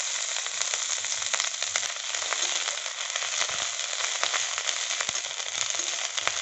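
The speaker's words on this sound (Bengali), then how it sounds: "পেঁয়াজটাকে একটু লাল লাল করে ভেজে নেব।" Onion paste frying in hot oil with nigella seeds, leftover from frying tilapia for tel jhal, gives a loud, continuous close sizzle with scattered crackles throughout.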